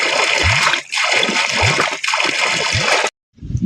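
Borewell water on a farm gushes steadily and loudly, with rhythmic low surges roughly every second, before cutting off abruptly near the end.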